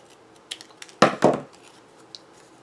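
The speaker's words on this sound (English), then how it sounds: "take your scissors, figure where the halfway point is, and then cut in about 1/4 inch" Scissors cut into scrapbook embellishment paper, giving a few light clicks and then two crisp snipping cuts close by in a quiet room.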